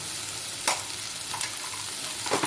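Paav wada mixture sizzles steadily in a pan while a spoon stirs it, scraping the pan in a few brief strokes, close and alone.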